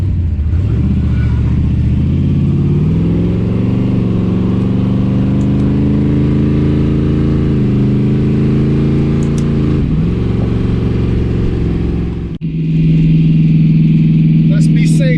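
Fox body Mustang with a 350 small-block Chevy V8 revs up under full throttle, its loud rising roar climbing steadily before a sharp shift and a renewed pull.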